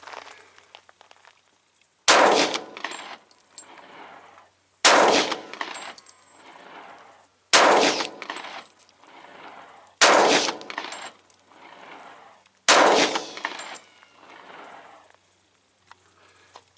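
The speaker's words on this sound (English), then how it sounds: "next up I'm going to run 5 of my 200 grain extreme plated bullet hand loads through here" Five loud gunshots from a Smith & Wesson M&P 45 M2.0 pistol shooting 200-grain plated-bullet handloads, spaced about two and a half seconds apart, each sharp report followed by a brief ringing echo, with no talk.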